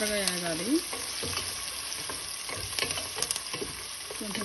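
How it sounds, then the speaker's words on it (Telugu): Onions frying in a pan for okra tomato curry give a soft, steady sizzle, fairly quiet, with a few scraping stirs and light clinks across the short stretch. "ఉల్లిపాయ కొంచెం దోరగా వేగాలి"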